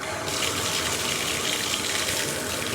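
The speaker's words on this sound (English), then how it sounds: "I'm going to go ahead and turn the water back on." Water gushing steadily from a shower tap in a bathroom during a long-hair wash, a continuous broadband rush that starts abruptly and holds at an even, close level with no talk.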